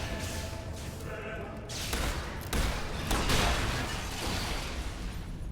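Rapid weapon fire in the fantasy game Fable 3, a dense run of bursts and thuds that swells in loudness midway and keeps going steadily to the end.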